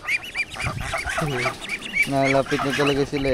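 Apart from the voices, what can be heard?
pet ducks quacking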